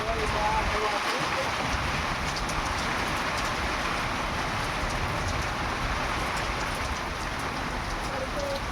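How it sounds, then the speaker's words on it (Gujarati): Heavy rain roars continuously with a gusty, buffeting storm wind rumbling underneath on a farm, loud and close throughout. "આજે જો વરસાદ જ ચાલુ થાય અત્યારે ફૂલ પવન સાથે મિની વાવાઝોડા સાથે વરસાદ ચાલુ થાય"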